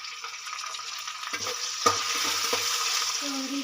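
Ginger-garlic paste fries in oil until golden brown for a spicy broad bean pod curry, giving a steady close sizzle broken by a few soft stirring scrapes in the pan.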